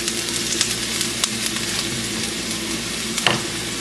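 Onion hits hot oil in a pan for fried rice, giving a loud, steady sizzle and crackle, close and continuous with a few brief stirring clatters.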